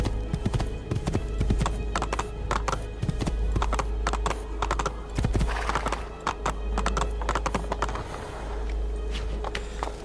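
Horse hooves in Assassin's Creed 2 clip-clop steadily on hard ground in a brisk rhythm, close by, with occasional snorts and a faint background hum.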